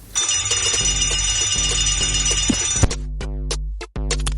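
A loud electronic alarm clock rings continuously with a rapid buzzing pulse, then breaks into shorter repeated bursts; close and insistent, no voices.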